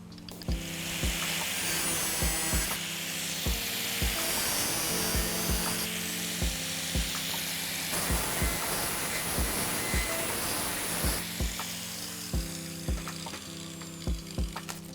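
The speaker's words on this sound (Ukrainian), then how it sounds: "Тому я ставлю свої, це бовтик М5. Ну, десь на сантиметр роблю, обрізаю та все." An M5 bolt is cut shorter by about a centimetre while fitting a gate frame and lock, a rhythmic rasping sawing with regular metallic strokes that runs steadily and close throughout.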